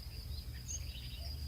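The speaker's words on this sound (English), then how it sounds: "I have the back patio door opened just a little bit so you can hear the sounds of nature." Faint outdoor nature sounds carry in through a slightly open back patio door: a steady insect or cricket trill with soft bird chirps over a low background hum.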